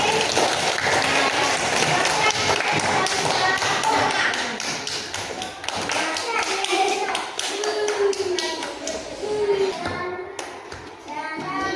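A group claps steadily for several seconds in a classroom, the applause dense and fairly loud, with children's voices chattering over it and trailing off near the end.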